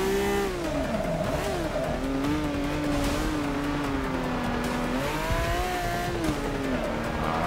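An old-school Ferrari race car in Forza Motorsport 6, its engine revving loud and close through continuous gear changes and rising, falling pitch, with brief tire squeal as it corners hard on track.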